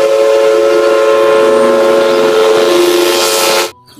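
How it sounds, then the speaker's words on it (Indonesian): A Thomas toy train plays a loud, sustained whistle-like electronic tone that holds steady for several seconds, then cuts off abruptly. "Hei, lihat ini teman-teman. Ada kereta api Thomas."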